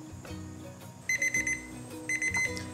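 Kitchen timer alarm going off after eggs have boiled for eight minutes: two bursts of sharp, loud electronic beeps in quick rhythmic groups, with low kitchen background noise and no talking.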